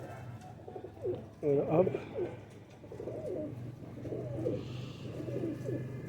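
Pigeons kept for sale, including a hen, coo softly in short bursts, with a louder cluster of calls near the start and someone talking over them throughout.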